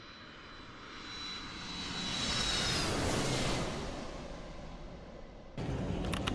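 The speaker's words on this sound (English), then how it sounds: "we eventually got onto the plane for the next leg of the trip from Fiji to LA" Inside an airliner on an international flight from Fiji to Los Angeles, the engines hold a steady broadband roar that swells and eases over several seconds, with a sudden shift in cabin noise near the end.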